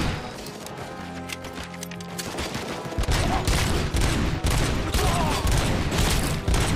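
Rapid gunfire in Robocop Rogue City, a dense run of fast repeated shots that grows louder and more continuous partway through, layered over game music and effects.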